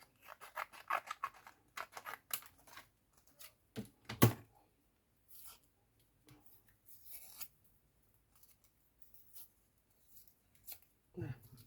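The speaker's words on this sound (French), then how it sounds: "ici, je vais venir découper un petit bout" Small piece of paper cut with scissors for a scrapbooking ATC card, heard as a few short snipping and rustling sounds near the start, close up, between quiet spoken narration.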